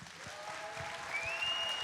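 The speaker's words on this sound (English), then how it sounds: "Please give them a huge round of applause." A crowd applauding steadily at a district championship opening ceremony, dense clapping rising slightly in loudness, with a faint tonal whine appearing partway through.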